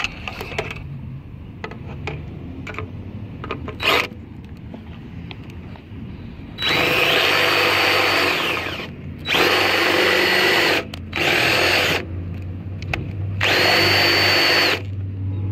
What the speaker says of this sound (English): The screw is all jacked up, so I'm gonna have to drill this out.